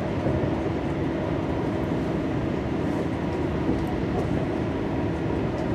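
Passenger train rolling along the line toward Hereford between Cardiff and Swansea, a steady loud rumble of wheels and carriage noise throughout with no break.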